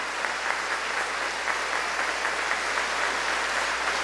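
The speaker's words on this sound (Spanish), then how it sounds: "Un gran aplauso para el maestro que hoy nos trajo al Santo Cristo de la Grita." Steady applause from a church congregation after a choir Eucharist in honor of the Santo Cristo de La Grita, a dense, even wash of clapping for the conductor lasting several seconds without a break.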